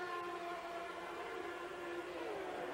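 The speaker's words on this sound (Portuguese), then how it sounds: "E olha o barulho do motor. Nitidamente com um cilindro a menos." Formula 1 race car engine running with one cylinder down during the German Grand Prix, a continuous rough droning whine heard steadily at a distance with no break.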